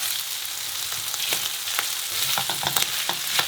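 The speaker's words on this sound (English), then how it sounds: "we want to fry the rice for a little bit, and now we're going to add the ink" Rice fries noisily in a pan as it is stirred with squid ink for Spanish arroz negro, a continuous close sizzle broken by frequent scraping strokes of the spoon.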